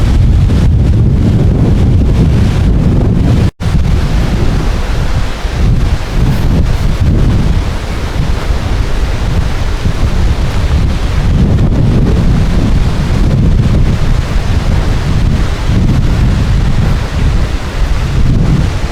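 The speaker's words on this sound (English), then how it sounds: "Wow, it is windy, really windy." Loud, relentless wind at Holland State Park on Lake Michigan near a beach campground buffets the microphone with heavy low rumbling gusts, roaring continuously with only a momentary break early on.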